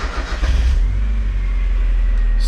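Mazda Miata engine idling smoothly after an oil change, a steady low rumble with a brief revving swell at the start, close and loud, with no ticking evident.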